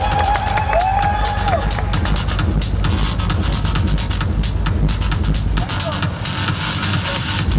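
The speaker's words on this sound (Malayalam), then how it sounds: "ഒരു ചെറിയ കയ്യടിയൊക്കെ ആവാട്ടോ." Audience applause and cheering at a Sookshma Darshini movie promotion event, a dense continuous roar of clapping and crowd noise, loud and close, with voices mixed in throughout.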